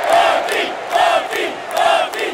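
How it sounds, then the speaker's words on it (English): Tampa Bay Buccaneers fans in a stadium chant a player's name in a steady, repeating rhythm, three loud crowd swells rising and falling about a second apart. "The Tampa Bay fans were chanting his name at Ray J"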